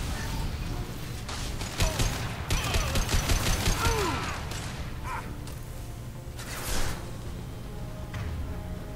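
Gunfire from the video game Mass Effect 2 rattles in dense bursts amid mechanical clanks, whooshes and crashes, loud and busy throughout, with faint voices mixed in.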